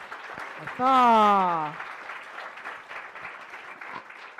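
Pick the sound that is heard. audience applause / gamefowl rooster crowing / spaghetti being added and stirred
audience applause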